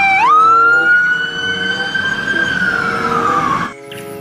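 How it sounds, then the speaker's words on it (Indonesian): A toy fire truck's electronic siren wails, sweeping up quickly and then holding a long loud tone before sliding down and cutting off abruptly, heard alone and close. "Pemadam kebakaran."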